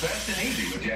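A short burst of Lysol disinfectant spray gives a continuous close hiss lasting about a second, with a voice heard faintly beneath it.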